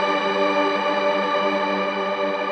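Piano Toy virtual instrument with several layers sounding together in stack mode, a steady sustained shimmering tone with chorus-like wobble and echo, held evenly throughout with no talking.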